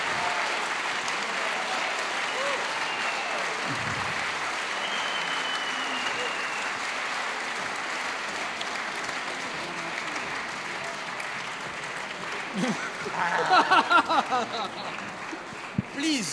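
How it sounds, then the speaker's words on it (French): A book festival crowd in Nancy keeps applauding author James Ellroy, a long wash of clapping that thins toward the end as a voice begins speaking over it. "On applaudit plus fort encore."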